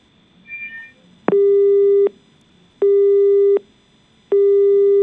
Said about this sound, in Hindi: शाल्या जी का फोन कट गया है।